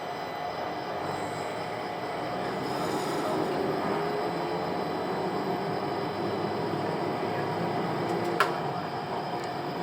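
Little Rock Metro streetcar pulling away from 5th and Main, a steady close rumble of wheels and motor that holds even throughout, with a faint squeal and one short sharp tick late on.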